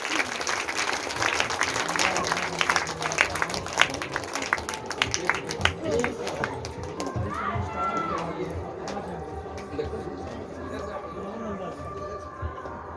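Audience clapping at a Bhagavat katha religious discourse gathering, dense applause that gradually thins out, with scattered voices and background murmur toward the end.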